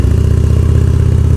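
A Harley-Davidson motorcycle engine pulls away from a green traffic light with a loud, close, steady rhythmic low-pitched throb.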